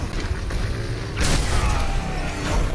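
Junkrat's RIP-Tire ability in Overwatch, on the Lijiang map, sounds as a loud mechanical creaking and whirring that swells sharply partway through and keeps rolling to the end, with no talk.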